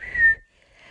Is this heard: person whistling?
yes